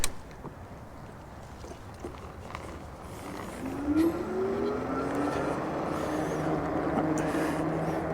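A Philodo Hunter electric bike rides on pedal assist level 1, its motor whine rising in pitch as it picks up speed, with steady wind and road rumble close by and no talking.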